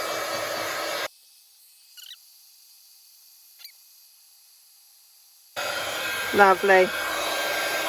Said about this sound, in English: I'm going to turn my heat gun on so it'll be a bit of noise